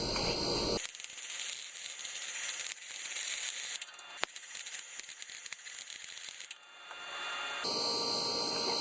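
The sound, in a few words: welder welding truck frame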